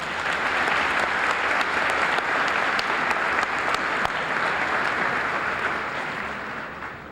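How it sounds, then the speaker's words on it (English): A large audience at a 2012 Jefferson College commencement gives sustained, dense applause, loud and even throughout before tapering slightly at the end. "Would you join me in giving them a round of applause,"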